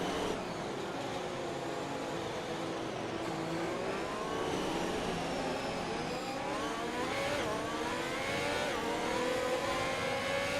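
An F1 car in the F1 2021 video game pulls away on the formation lap, its engine a steady, continuous whine that climbs and shifts in pitch through the gears, loud and up close with no talking.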